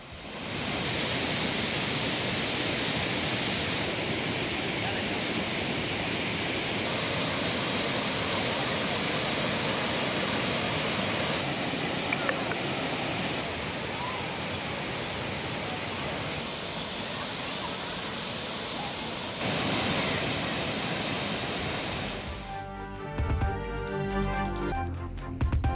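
Water gushing fiercely at Thirparappu waterfall in Kanyakumari, a dense, steady roar of heavy falling water that stays loud and constant, ending with a brief burst of music.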